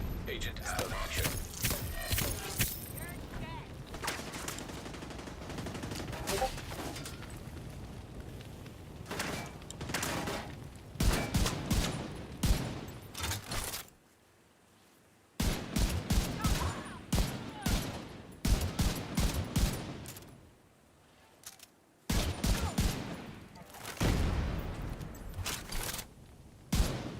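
Video game gunfire: rapid, loud bursts of shots in repeated volleys, separated by a couple of short quiet gaps, with a voice talking now and then between the bursts.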